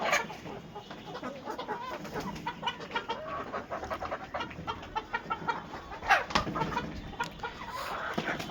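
Chickens in a poultry house with sawdust bedding cluck repeatedly in short, irregular bursts, fairly close, with a steady low background hum.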